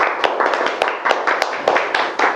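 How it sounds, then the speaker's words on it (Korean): Studio audience applause at a Korean comedy lecture: dense, brisk clapping from a small group runs throughout, with a few sharper individual claps standing out. "박수"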